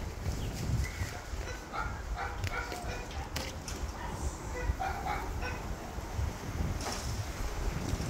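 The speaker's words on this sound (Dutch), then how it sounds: "Heel lief hondje." A small dog yips and whimpers outdoors in wind, with a few short, faint bursts mixed into gusty noise while people talk nearby.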